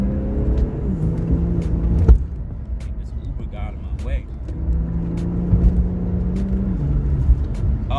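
An Infiniti Q50 sedan accelerates on the road, its engine rumble rising in pitch twice in a steady climb, with someone talking over the cabin noise throughout.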